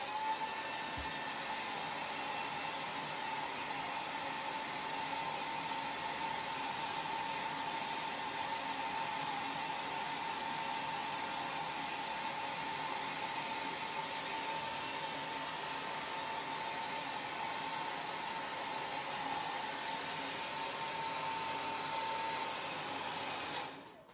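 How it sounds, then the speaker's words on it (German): A hair dryer blows steadily on wet brown watercolor paint in a sketchbook of autumn apples, a loud constant airy whoosh that runs unbroken for the whole stretch and then cuts off at the end. "Föhnen wir noch mal die ganze braune Suppe hier."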